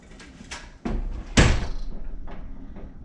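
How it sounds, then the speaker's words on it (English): A wooden interior door inside a winery swings shut and latches with one loud knock, preceded by lighter thumps and followed by a short fading rattle. "The door is latching and everything"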